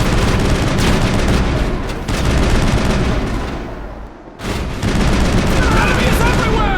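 Continuous loud gunfire in a video game shootout, a dense roar of overlapping shots and explosions that briefly dips before surging again.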